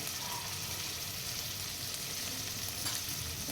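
Turmeric fries in hot oil in a pan, a steady, close sizzle with soft crackling throughout and no voices.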